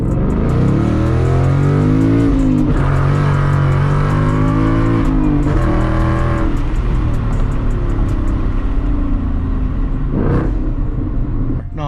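A loud Ford Mustang GT 5.0 V8 with an MBRP race exhaust revs and accelerates up close, its throaty exhaust rising and falling in pitch through several pulls.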